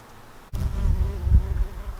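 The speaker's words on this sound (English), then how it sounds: "Oh, there's a happy honeybee." A close, low buzzing of a honeybee among garden flowers starts abruptly and hums steadily, wavering slightly in loudness.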